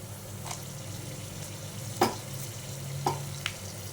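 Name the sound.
spices frying in oil for chicken curry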